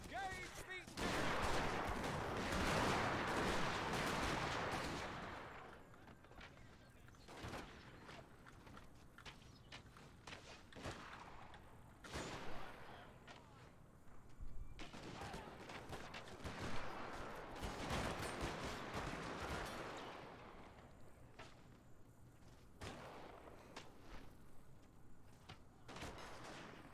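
Massed musket and gun volleys on a battlefield in the video game Total War Shogun II: a long loud barrage, then scattered shots and renewed rolling fire, with faint voices underneath.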